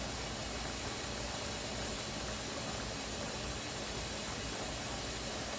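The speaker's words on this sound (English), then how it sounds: "I don't know if you can see the steam coming out of the vent, but I'll give you a minute so you can hear what it sounds like" Steady, even hiss of steam venting from a pressure canner while green beans are processed, a continuous broadband rush that holds constant throughout with no talk.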